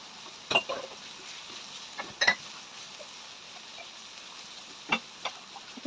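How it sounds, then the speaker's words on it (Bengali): Onion and garlic fry in a pan for a mustard-greens chutney, a soft steady sizzle under several sharp scrapes of a stirring utensil against the pan. "পেঁয়াজ আর রসুনটা একটু ভাজা ভাজা হইবে লাগে"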